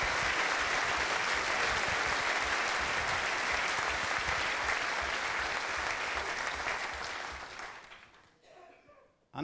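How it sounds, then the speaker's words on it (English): Applause from an audience at an evening event in a hotel function room, sustained and loud for most of the stretch before thinning into scattered claps and dying away near the end. "they deserve to be applauded"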